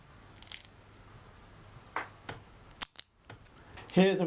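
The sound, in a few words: picture hanging strips clicking together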